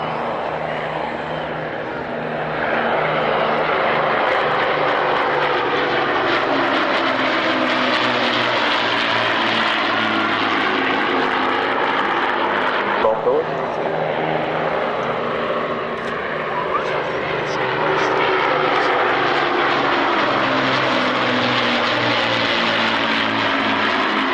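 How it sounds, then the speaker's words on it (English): An Avro Lancaster bomber flies past at an airshow, its piston propeller engines making a loud, steady droning roar that swells and shifts in pitch as it passes, continuous and dominant throughout. "That's the Lancaster."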